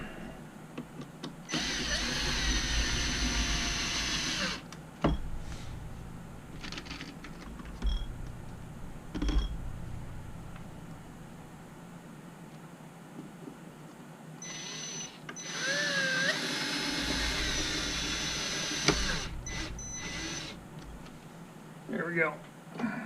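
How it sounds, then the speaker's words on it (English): A power drill driving screws into a 1/14 scale RC scraper model whirs in several bursts of a few seconds each, with quieter pauses between them while someone talks. "I'll go ahead and screw this in. Might as well pull the drill out"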